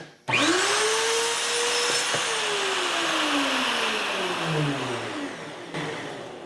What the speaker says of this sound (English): so I've milled a slot